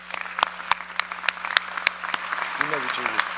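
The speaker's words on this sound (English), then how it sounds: "Please join me in a big round of applause for all our winners and recipients." A crowd at a commencement ceremony claps in a steady, moderate round of applause for winners, with a voice speaking over it briefly toward the end.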